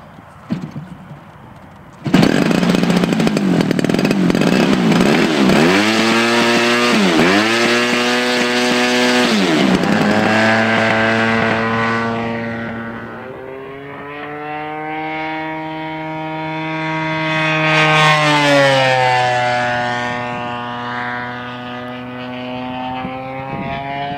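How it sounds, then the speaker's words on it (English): A gas O.S. GT55 engine in a Pitts Python RC plane fires up abruptly and runs loud, its harmonic drone dipping and surging through several throttle blips, then easing lower and swelling again as the plane flies past. "we've got the GT55 mounted in a Pitts Python test bed here, and we are ready to get it in the air"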